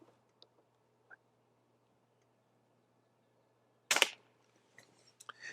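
An Air Venturi V10 match air pistol for 10-meter shooting fires once, a single sharp crack in a quiet room, preceded by faint ticks and followed by a few soft clicks.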